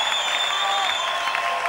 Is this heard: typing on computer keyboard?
no